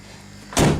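A door on a 1987 Ford ZL Fairlane shuts with one loud, close thunk after a moment of quiet.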